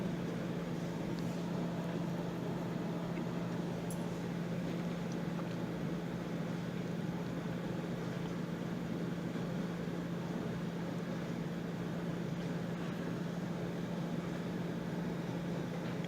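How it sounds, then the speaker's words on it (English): A household dishwasher runs in the background indoors, a steady, even machine hum with a constant low tone that never changes across the whole stretch, fairly faint and without speech. "My dishwasher is going"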